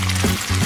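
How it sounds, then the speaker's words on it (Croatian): Fresh minced meat pljeskavica patty frying in a hot pan, a steady close sizzle with a brief shift midway, no talking. "Oblikovat ću pljeskavicu i staviti je da se prži na tiganj."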